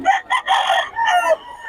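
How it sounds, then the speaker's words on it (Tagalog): A rooster crowing close by, a loud, bright call split into several bursts, with no talk over it. "si Boss Gaga, ang gaganda ng manok ko."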